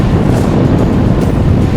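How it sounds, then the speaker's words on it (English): Strong wind buffets the microphone in an open training spot in central London during an endurance bike ride, a steady loud roar with no pauses throughout. "Windy."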